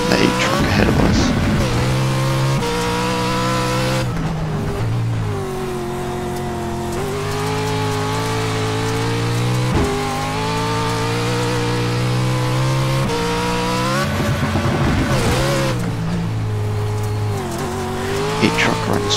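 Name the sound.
Pro 4 off-road race trucks racing in iRacing video game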